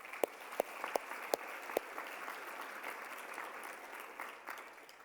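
Conference audience at a general session clapping at a modest, steady level, with a few sharper individual claps standing out near the start before the sound settles into an even patter that slowly fades.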